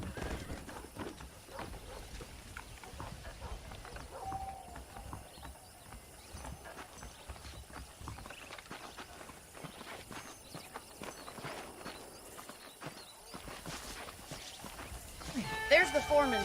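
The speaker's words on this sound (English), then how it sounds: "The horses are saddled up over here." Horses in the Red Dead Redemption video game, hooves clip-clopping steadily at close range with occasional neighs and whinnies, under a game soundtrack and spoken dialogue.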